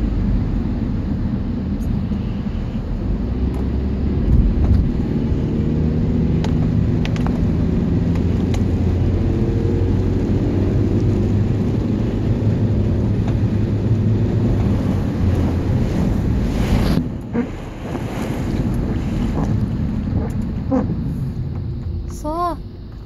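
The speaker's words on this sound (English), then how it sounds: "I don't know how good the quality was of that with the engine and the wipers." A car engine drones steadily inside the cabin during a heavy rainstorm, with a dense wash of rain and wind noise throughout and faint sweeps near the end. A voice speaks at points.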